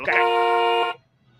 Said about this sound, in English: Why is he honking?